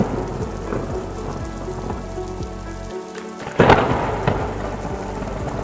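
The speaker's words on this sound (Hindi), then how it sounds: "तभी अचानक तेज बारिश शुरू हो गई।" Heavy rain patters continuously, then a brief gap before a loud thunder crack and rolling rumble join the downpour.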